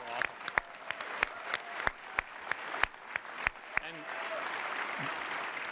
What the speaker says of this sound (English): I'd like to give a round of applause to the developers that have worked so hard to make PS4 awesome